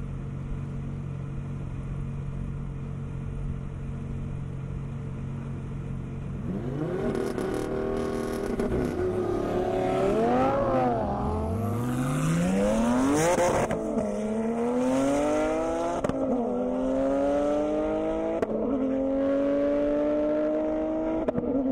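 An 1100-horsepower Porsche Turbo launching on an airstrip race course, its engine climbing through several rising gear pulls with shifts in between, loud and close, alongside other engine noise.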